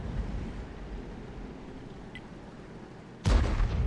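Tank gun firing in World of Tanks from a GW E100 self-propelled artillery vehicle: one sudden loud, deep blast near the end, breaking over a steady low rumble.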